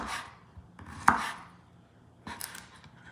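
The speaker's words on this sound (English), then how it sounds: "is going to cut some relatively thin slices" A knife slicing relatively thin slices on a cutting board for a Castilian garlic soup, a few crisp cuts with a sharp board knock, spaced apart and close.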